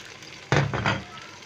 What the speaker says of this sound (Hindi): इसमें थोड़ा सा पानी डालेंगे,